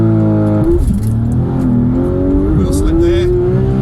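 A naturally aspirated Porsche engine revs hard at a launch-control start, holding a high buzzing pitch before the revs drop and climb again as the car pulls away, loud and close.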